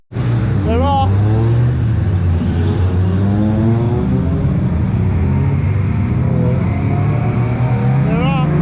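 Time attack race cars, including an MX-5, pull away at the Anglesey circuit during qualifying. Loud, sustained engine roar with rising rev sweeps and shifting tones, overlaid by commentators talking throughout.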